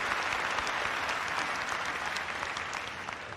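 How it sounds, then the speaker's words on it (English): Steady, dense applause from a large audience at the Australian swimming trials, continuous and even throughout with no speech over it. "I think we need to hear a big round of applause from the South Australians here."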